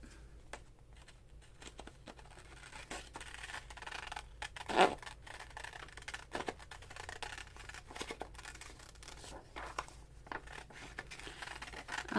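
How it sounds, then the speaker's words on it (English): Scissors cutting out paper for a December daily scrapbook page, a string of soft close snips and rustling paper handling, with a few sharper clicks between quieter stretches. "So I'm going to cut this out."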